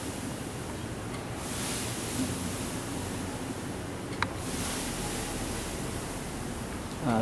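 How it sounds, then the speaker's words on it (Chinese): A 5-metre misting cooling hose with ten nozzles, hooked to a garden tap, sprays water in a steady, even hiss that holds without a break throughout, with no talking. "这个就是5米十喷头的一个喷洒情形"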